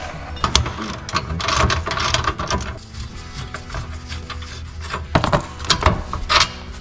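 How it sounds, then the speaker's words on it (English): A ratchet backs out the two bolts on an RV scissor jack bracket, giving bursts of rapid clicking pawl ratchets with scraping metal in between, close up and fairly loud, and no voices. "See, these are the two bolts you're going to remove, all right?"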